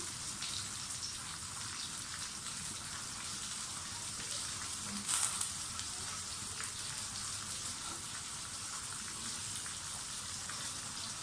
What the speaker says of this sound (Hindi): थोड़ा थोड़ा सा घी में बनाते जाएं।